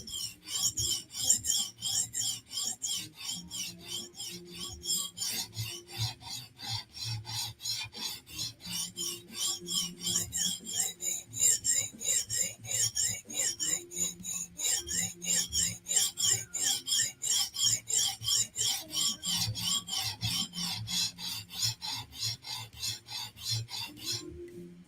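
An OZ Roosevelt blade bevel is pushed steadily across a sharpening stone, giving a loud, rhythmic gritty rasp that repeats in fast even strokes throughout, close up and with no speech over it.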